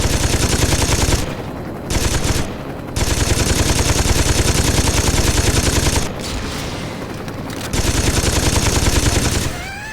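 Rapid automatic gunfire from the Saints Row 2 video game rattles loudly in long sustained bursts, broken by a few brief pauses, with dense repeated shots filling most of the stretch.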